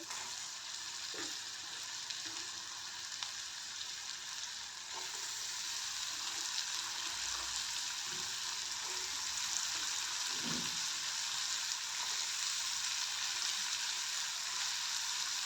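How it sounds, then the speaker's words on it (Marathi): Sliced ash gourd (dhemse) stir-fries in a pan for a dry vegetable dish, a steady broad sizzle that grows slightly louder partway through, with occasional soft stirring knocks. "तर पूर्ण आपण ढेमसेचे काप घातलेले आहे आता याला व्यवस्थित मिक्स करून घ्यायचं"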